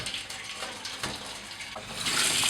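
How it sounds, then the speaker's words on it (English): Hot tap water runs steadily into a kitchen sink where oven racks are set to soak, a continuous splashing flow that swells louder near the end. "I will use hot water."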